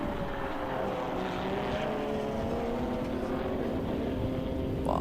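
Touring race cars at an endurance race at BalatonPark sweep through a chicane, their engines droning steadily at a distance with a slowly shifting pitch and no break in the noise.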